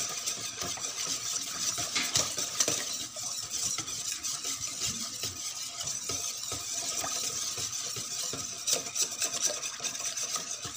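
A kakanin mixture is stirred in a pot, producing a continuous close scraping and rubbing with irregular knocks of the spoon against the pot.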